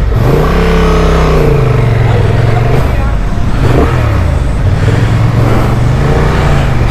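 A Honda Transalp XL750 adventure motorcycle with a 750cc engine and dual clutch revs repeatedly, loud and close, its pitch climbing and dropping in several waves while a person talks over it.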